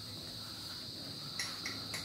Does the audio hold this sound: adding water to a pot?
no